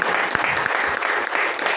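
Audience at a Women's Day gathering in Majalgaon clapping loudly, a dense continuous burst of applause for the short stretch.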